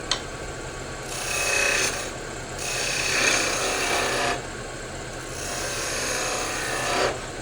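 Wood lathe turning a pepper mill blank, the tool cutting in steady rasping passes that swell and ease in long strokes, with brief pauses between cuts.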